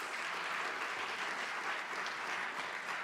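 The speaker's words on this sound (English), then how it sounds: "let's have another round of applause for those wonderful high schoolers from Bloomington High School" A large audience at a city's State of the City event applauds high school performers from Bloomington High School North, a steady, fairly distant wash of clapping that holds evenly throughout.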